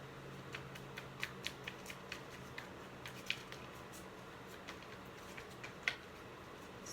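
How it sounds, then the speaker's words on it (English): Oracle cards being shuffled by hand, a quiet run of soft papery flicks and taps with a few sharper snaps, close and faint with no talking. "let's finish shuffling, see what we have at the bottom of this deck"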